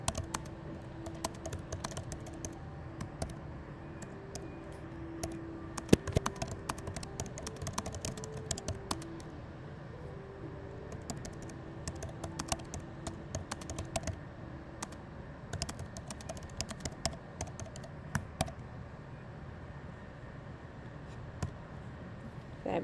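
Steady typing on a computer keyboard, a continuous patter of light, quick key clicks at close range, fairly soft over a low background hum, with no speech.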